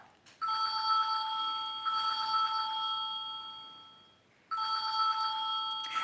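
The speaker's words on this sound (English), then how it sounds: "My phone is ringing." A telephone rings indoors in a kitchen, two long electronic ringing bursts separated by a short pause, clear and moderately loud with no one speaking.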